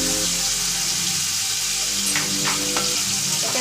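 Ginger garlic paste frying in a pan for katla fish curry, giving a steady, dense sizzle throughout with a few light stirring scrapes over it.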